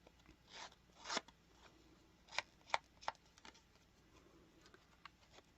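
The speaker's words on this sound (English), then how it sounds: "I'm just going to take my scissors" Faint, sparse rasping scrapes of scissors along a paper edge, a few short strokes separated by quiet pauses.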